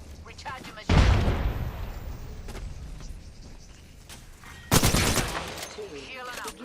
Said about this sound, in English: Tossing a thermite. Grenade out.